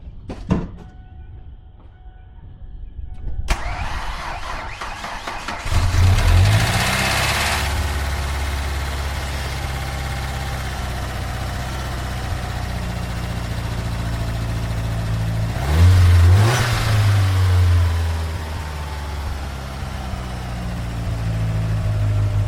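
A Ford Mustang engine cranks and fires up after a lifter replacement, settling into a steady idle with two distinct revs, the second about ten seconds after the first, loud and close throughout with no talking.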